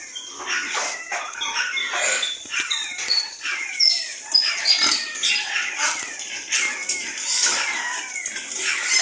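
Nine piglets on a small farm squeal and grunt right after iron dextran vaccination, a dense chorus of high-pitched, overlapping squeals that keeps going without pause at close range.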